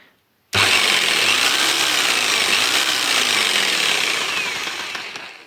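A Tekhas TA-01-580 electric jigsaw at speed setting four starts abruptly and runs with a loud, close, harsh buzzing roar, holding steady for several seconds before easing slightly toward the end, with no voices.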